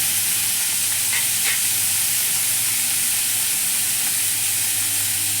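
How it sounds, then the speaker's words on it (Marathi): Chana dal frying in hot oil for sambar, a loud, steady sizzle and hiss with faint scrapes from stirring, close up and without speech. "चण्याची डाळ टाकून. हे बघा, चांगल्या तेलामध्ये असं हलवून घ्यायचं."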